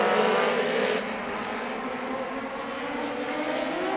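TQ midget race cars at the Winter Showdown charge off a green flag start, a loud dense blare of engines that surges at first, then settles into a steady, slightly quieter roar.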